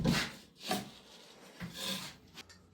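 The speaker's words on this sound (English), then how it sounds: "cut the plasterboard now, so you just want like a 4-foot level and a Stanley knife" A Stanley knife scores plasterboard in a few quick, close rasping strokes, with short pauses between the cuts.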